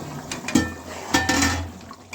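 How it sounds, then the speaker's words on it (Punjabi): A spoon stirs potato and vadi curry in a pot, giving a few scattered scrapes and clinks against the metal over a soft wet simmer. "ਇੱਕ ਵਾਰ ਅਸੀਂ ਸਬਜ਼ੀ ਆਪਣੀ ਹਿਲਾ ਲਾਂਗੇ ਦੇਖੋ"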